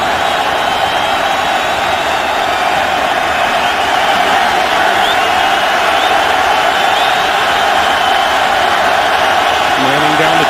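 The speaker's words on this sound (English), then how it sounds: "I love the way the crowd starts booing." A packed American football stadium crowd at a Colts versus Texans game keeps up a loud, continuous roar that swells into sustained booing, with a commentator's voice faintly present.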